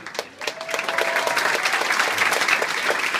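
An audience applauds loudly and steadily at a live event, clapping holding up throughout after a brief dip at the start.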